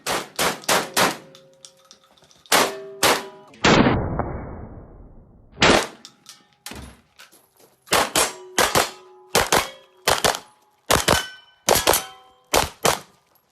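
Gunshots ring out at a gun safe in rapid bursts and single cracks, each shot sharp and metallic with a clanging ring, plus one longer dull crash midway, all loud and close with no talking.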